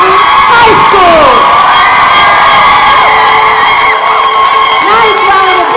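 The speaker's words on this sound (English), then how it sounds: "Nice round of applause. Woo!" A loud crowd at a school awards session erupts in cheering, whoops and high-pitched shouts from young voices, with applause blended underneath, the yelling rising and falling continuously close by.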